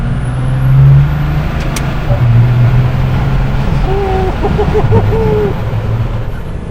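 A diesel Dodge RAM 2500 pickup truck rated at 800 horsepower and 1700 Nm hums with a loud, steady engine drone from inside the cab, with brief speech partway through.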